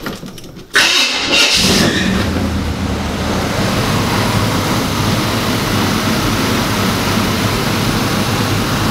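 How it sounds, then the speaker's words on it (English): A 1975 Chevrolet K5 Blazer, restored after sitting twelve years, cranks briefly and catches, then settles into a loud, steady idle that rumbles on without a break, with no voices. "The car actually fired up right away."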